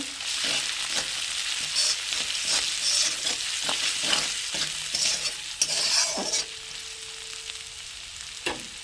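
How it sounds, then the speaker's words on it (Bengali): Potatoes sauté with salt and chilli powder in a pan, giving a steady, bright sizzle over the whole stretch, punctuated by frequent rhythmic spatula scrapes and knocks. "লবণ, আলু দিয়ে ভালো করে কষিয়ে নেব।"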